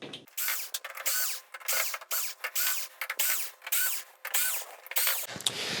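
Small screws being backed out along the bottom edge of an LG 55LS4500 flat-screen TV with a power screwdriver, heard as a steady run of short close whirring bursts separated by brief pauses, with no voices over them.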